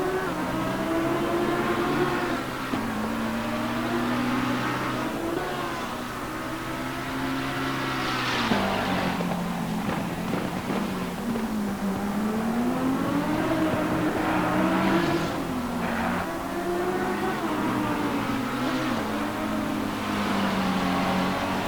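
A McLaren 650S GT3 race car with a 5.28-litre engine races at Circuit Zolder, its loud engine revving and shifting through gears continuously for the whole stretch.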